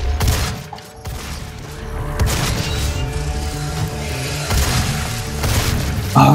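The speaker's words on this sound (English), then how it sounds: "freaking rocket launcher, man" Rocket launcher fire in the Doom video game, heard as dense, loud explosive booms and rapid gunfire-like blasts that continue throughout.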